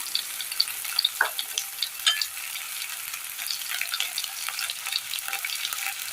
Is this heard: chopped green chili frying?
yes